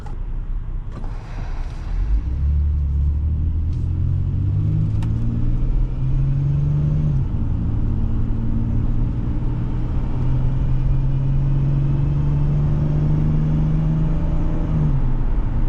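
A 2002 Nissan Quest GLE minivan engine drones steadily from inside the cabin, its pitch climbing in smooth steps as the van accelerates and shifts, a continuous loud rumble with no talk.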